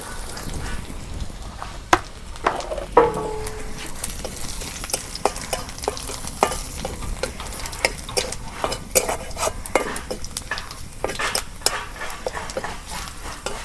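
Garlic and cumin fry in hot oil for a tempering in a rustic Bengali kitchen. A continuous sizzle runs throughout, broken by frequent sharp clicks and scrapes of stirring.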